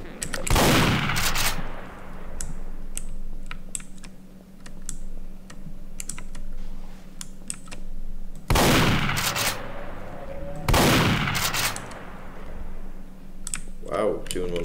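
Gunfire in Garry's Mod on a space map, a few loud sharp bursts of shots with decaying echoes, separated by rapid keyboard clicking and a low steady hum.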